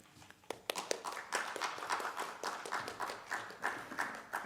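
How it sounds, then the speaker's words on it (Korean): A seminar audience claps to welcome a professor to the lecture stage, a sustained patter of many hands at moderate distance, fairly quiet, with scattered louder individual claps running throughout. "우리 나오실 때 한번 박수로 환영하겠습니다."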